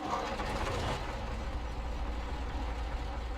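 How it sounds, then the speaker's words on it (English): A truck engine idles steadily in the Snowrunner off-road driving game, a deep low rumble with a constant mid-range drone, close and even throughout with no talking. "Engine."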